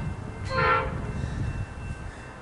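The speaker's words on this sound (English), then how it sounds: "Here comes the G-Class unknown train on the Warrnambool freight." A G-Class diesel locomotive hauling the Warrnambool freight train sounds a single short horn blast, fairly close, over steady rumbling rail and engine noise.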